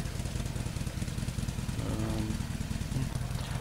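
Motorcycle engine from a Fallout 4 mod bike, a steady, close, rumbling putter with a rapid regular pulse that rises slightly in pitch midway.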